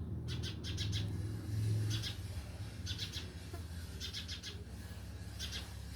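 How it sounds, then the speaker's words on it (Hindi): Bird chirps in short repeated bursts of quick high tweets, recurring every second or so over a steady low background hum. "चिड़िया चहचहा रही है"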